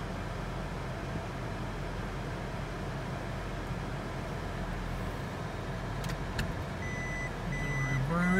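A Toyota Prius emits faint reversing warning beeps near the end, heard over a steady low hum inside the car.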